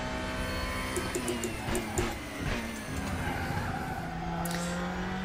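A DTM race car at Motorland Aragon in the Raceroom racing game, engine droning with shifting pitch as tires squeal and skid through corners, steady and fairly loud with no talk.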